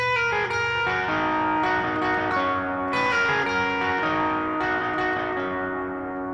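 Distorted electric guitar notes ring out and smear into one another, a sustained, thick wash of high-gain tone with a few fresh picks.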